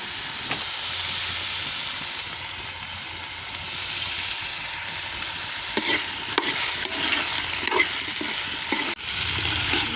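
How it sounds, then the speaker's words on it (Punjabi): A ladle stirs brinjal and potato sabzi in a kadai over a continuous close sizzle, with scraping clinks of metal on metal growing busier toward the end. "ਇਹਨਾਂ ਨੂੰ ਆਪਾਂ ਕੜਛੀ ਦੀ ਹੈਲਪ ਦੇ ਨਾਲ ਤਾਂ ਹਲਕੇ ਹਲਕਾ ਹਲਾਉਂਦੇ ਰਹਿਣਾ"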